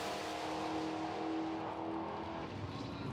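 A heavy racing truck engine roars and accelerates hard at a drag-racing event, a loud sustained drone that rises and then begins to fade into the distance.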